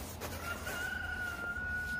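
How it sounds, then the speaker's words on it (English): A rooster crows once, a faint, drawn-out call heard at a distance over quiet background noise. "There's that rooster everybody loves."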